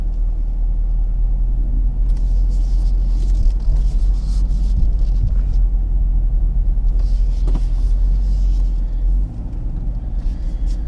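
A car drives along the road with a steady, heavy low engine and tyre rumble throughout, plus occasional faint higher road noise passing by.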